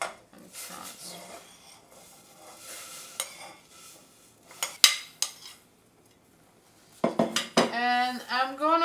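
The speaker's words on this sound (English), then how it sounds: "so we are ready to transfer the cauliflower rice into it" Cauliflower rice is scooped with a metal spoon into a pot, making sharp clinks and scrapes against the metal with pauses between, plus a scattering of softer rustles. A burst of louder scraping clatter comes at the end.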